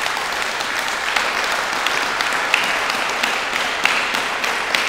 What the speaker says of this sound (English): I'd ask all of you to give Sergeant Stevens and Officer Bateman particularly a hand of applause.